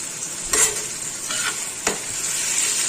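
Ginger paste fries with softened chopped tomatoes for Bengali khichuri, a constant hissing sizzle broken by two scraping stirs of a spatula in the pan, close by and with no voices.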